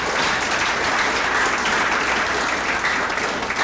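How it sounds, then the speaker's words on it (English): Steady audience applause at a Hall of Fame ceremony, a dense, even wash of many hands clapping close by for the full length with no talking over it. "So why don't we give everybody a big hand of applause"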